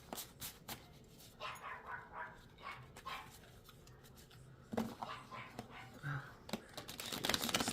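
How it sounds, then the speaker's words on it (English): A dog barks repeatedly outdoors, a noisy run of sharp barks and yips with some whimpering in between, at moderate distance and growing busier toward the end, with no talking over it. "She's always a noisy dog, but she is noisy right now."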